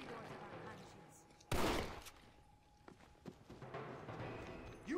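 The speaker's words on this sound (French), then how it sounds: "Fusil à pompe, je kiffe." Shotgun firing in Red Dead Redemption: Undead Nightmare, with one loud sharp blast followed by scattered fainter shots and clatter, under a quiet background.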